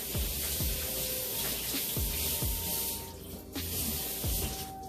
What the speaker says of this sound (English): Sorry, I gotta wash my hand really quick.